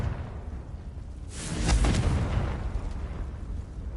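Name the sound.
Confringo explosion spell, Hogwarts Legacy video game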